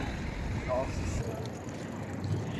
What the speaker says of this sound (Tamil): இப்போ காற்று வரும் பொடி பறக்குது